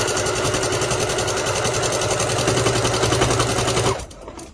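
A sewing machine stitches a quilt with a fast, steady mechanical rattle and hum, loud and close for about four seconds before stopping, leaving faint room noise.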